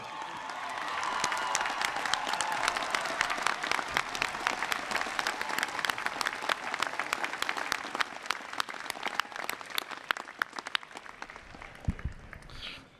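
Large commencement audience applauding Weiss College degree recipients at Rice University, a sustained, dense round of clapping that fills a big hall, then thins into scattered claps and fades out.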